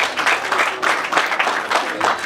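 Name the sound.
applause at a wedding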